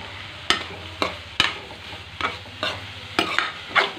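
A spoon scrapes and stirs chana dal curry in a frying pan, roughly eight distinct scraping strokes at an uneven rhythm over a soft, continuous sizzle, close and clear with no talking.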